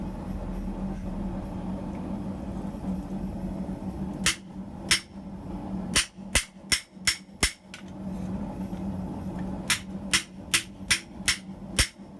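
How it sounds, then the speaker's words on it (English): Sharp metallic hammer blows ring out on an anvil-mounted Hardy shear cutting thick metal: two strikes, then a quick run of about six, a pause, and another steady burst of blows over low hum. "for thicker pieces, hammering is definitely the way to go."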